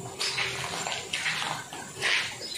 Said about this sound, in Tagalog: Masarap maglinis guys pag maraming tubig